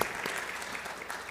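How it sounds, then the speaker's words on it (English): A congregation at a Kabbalat Shabbat service applauds a bat mitzvah girl, a short burst of steady, dense clapping from many hands, fairly loud and continuous. "We can all give her a round of applause right now."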